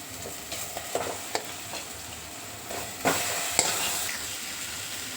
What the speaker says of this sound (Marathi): असं व्यवस्थित हलवून घेऊया.